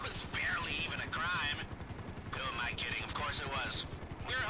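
A helicopter flying in the video game GTA 5, a steady rhythmic rotor chop running loud throughout, with people talking over it.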